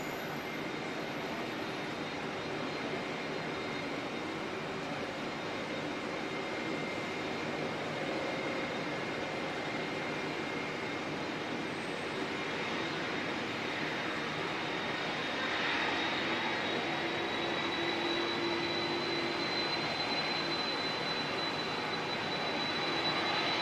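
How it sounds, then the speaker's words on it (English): Wide-body aircraft with CF6 jet engines at Auckland Airport, a steady broadband roar that holds level and swells slightly late on, distant-to-moderate and unbroken, with no talk over it. "no mistake in the glorious sound of those CF6 engines though"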